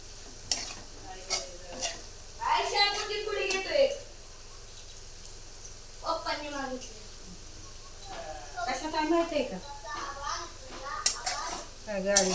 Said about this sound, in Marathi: चांगलं परतायचं तेलात शेंगदाणे मिरची